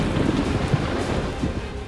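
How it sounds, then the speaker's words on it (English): Rain begins to fall at nightfall along a remote trail, a steady, close, broadband hiss of drops with a low rumble beneath, heard alone. "With nightfall nearing, it begins to rain."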